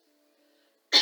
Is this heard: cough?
yes